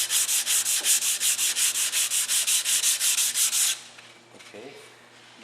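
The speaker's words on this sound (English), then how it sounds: "you finish with a 120 grit sandpaper before oiling" Wood being sanded by hand with 120 grit sandpaper during a hardwax oil scratch repair: a loud, close, rhythmic scratching of about sixteen even back-and-forth strokes, then it stops and light rustling follows.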